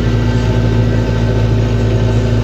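Cabin of a Lovol 754 III tractor ploughing with a Kverland 2x16 plough, a loud, steady, droning engine hum filling the space without pause.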